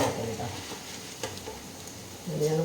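Jackfruit chips fry in hot oil, making a soft, steady sizzle close by. A few light stirring scrapes and a low tonal hum run underneath.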